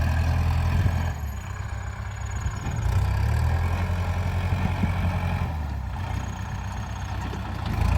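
Large farm tractor engine running steadily while tilling a field, a continuous low, rumbling drone holding at a loud, even level with no talk over it.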